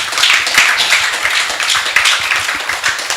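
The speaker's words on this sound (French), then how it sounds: "Sous vos applaudissements" Audience applause at a French talk show panel on work-life balance, a steady wash of hand claps with sharp individual claps throughout, sustained and fairly close for about three seconds.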